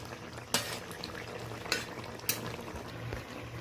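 Tengra fish curry (jhal chorchori, with live egg-bearing tengra) is stirred in a pan, giving three sharp scrapes of a spoon against metal over a low simmering bubble, close and alone.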